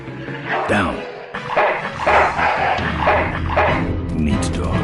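A dog barks in short, repeated yips inside the video game Full Throttle Remastered, loud and close alongside music and other game sounds.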